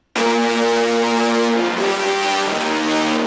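A sustained, buzzing synth tone run through the Devil Lock effect on a contact-strings sound rings out loud and dense, shifting pitch a couple of times while holding steadily without any talking.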